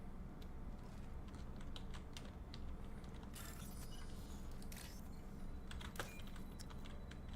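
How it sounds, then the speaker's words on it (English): Quiet, close clicking of a computer keyboard being typed on during a video game hacking minigame, with irregular taps and a few denser flurries over low background hum. "I'm using the keyboard and making all these clicking noises"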